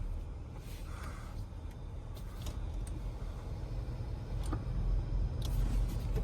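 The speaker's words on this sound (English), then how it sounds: "I'm going to go ahead and put it in drive for us." A 2025 Jeep Grand Cherokee Summit Reserve pulls away with a low, smooth engine and road rumble that rises gently as it gets moving, heard from inside the cabin.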